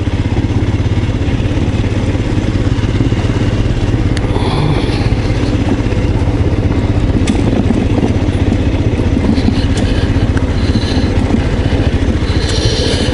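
Royal Enfield Scram 411 motorcycle with its stock exhaust, ridden at a gentle pace on a countryside ride; a steady, continuous engine drone with wind rush throughout, no talk.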